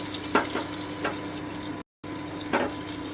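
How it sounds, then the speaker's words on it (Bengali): Chopped onion added to hot oil in a pan for okra do pyaza, giving a steady bright sizzle with a few soft stirring scrapes and a brief silent gap, no talk. "এবারে আমি কুচনো পেঁয়াজটা দিয়ে দিলাম"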